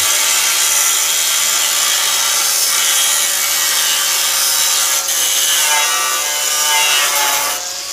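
A tool cuts through a sandwich panel for an oxygen plant canopy with a sustained harsh grinding rasp, steady and close throughout, with slight surges near the end.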